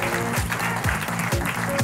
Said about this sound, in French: Et on vous applaudit, on vous encourage.